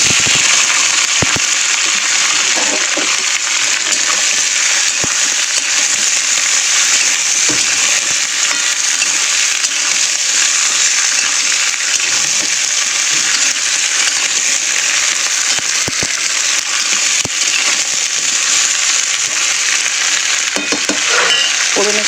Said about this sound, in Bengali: ফোড়নের সঙ্গে আনাজটা আমি একটু ভাজতে দেবো।